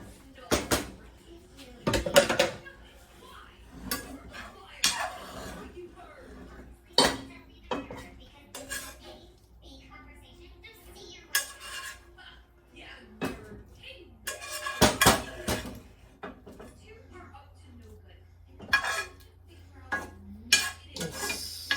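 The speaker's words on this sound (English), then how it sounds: "I'm going to try to empty this skillet, let's see, into this other pan." A cooked mixture of onions, celery, garlic, cabbage and beef broth emptied from a skillet into another pan, with a string of loud metal clanks, scrapes and clatters, then quieter shuffling and a low hum.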